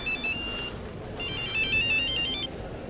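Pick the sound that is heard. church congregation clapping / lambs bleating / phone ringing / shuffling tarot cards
phone ringing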